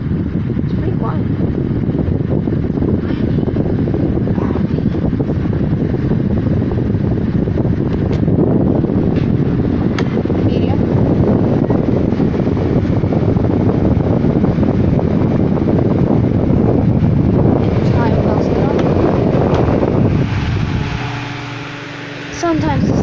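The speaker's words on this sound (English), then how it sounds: "I'll start it off low without the oscillator on" A 2019 Holmes Blizzard 9-inch table fan, model HAOF-90, runs on its low setting with oscillation off, giving a steady broadband whoosh of moving air that holds evenly for most of the stretch before briefly dropping away near the end.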